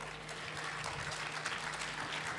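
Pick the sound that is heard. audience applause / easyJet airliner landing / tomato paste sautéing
audience applause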